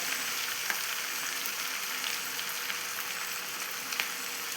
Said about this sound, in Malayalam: ഇഞ്ചിയിൽ നിന്നും ഒരു മൂന്നിലൊന്ന് ഭാഗം എടുത്തൊന്ന് മൂപ്പിച്ചെടുക്കാവേ